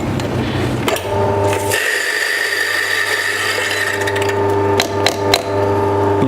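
A coffee grinder whirs steadily while grinding beans for a Tricolate brewer, loud and close, with a few sharp clicks and knocks over the top.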